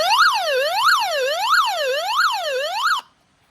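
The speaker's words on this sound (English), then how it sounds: "This is what the CR1009 Pro siren sounds like." A CR1009 Pro weather radio sounds its alert siren, a loud electronic tone sweeping up and down in a steady wailing cycle about every two-thirds of a second before cutting off abruptly into silence.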